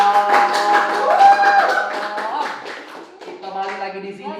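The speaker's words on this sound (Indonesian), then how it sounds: "Tepuk tangannya dong." Audience clapping at a community talk event about breaking and urban dance, a lively patter of hands running under loud voices and cheers that dominate the foreground.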